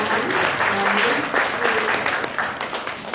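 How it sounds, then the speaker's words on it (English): Audience applause for the team at a fintech crypto tea talk community event, a steady, dense wash of clapping from a crowd that holds fairly even throughout, with a few cheers and voices mixed in. "A round of applause for the team."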